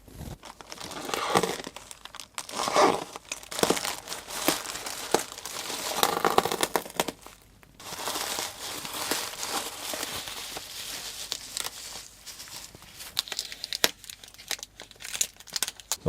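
Packaging for an external PS3 hard drive being opened up close, with steady crinkling, crumpling and tearing of plastic and cardboard running throughout, loud and busy with brief pauses.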